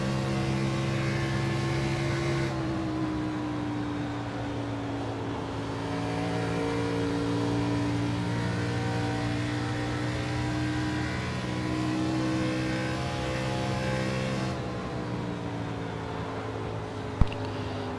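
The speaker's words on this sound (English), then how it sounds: "Let's be quiet for a minute as well and listen to the throttle" The number 46 Go Fast Racing stock car engine during an Xfinity Series race, a steady droning roar whose pitch dips and climbs as the throttle eases off and opens back up, heard alone.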